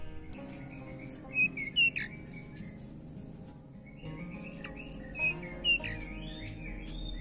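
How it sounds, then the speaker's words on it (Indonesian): A small Sulawesi flycatcher from Jampea sings faint, sharp chirping phrases in two short bursts, over a quiet, steady background hum. "Untuk burung Tledekan saya ini hariannya sudah berbunyi teman-teman"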